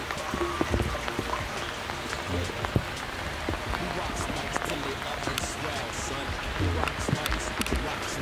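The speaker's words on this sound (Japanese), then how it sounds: "いい雨降ってますけど" Steady rain patters on a water-repellent down jacket outdoors during a typhoon-season downpour, a dense continuous hiss with scattered sharper drop taps and a voice now and then.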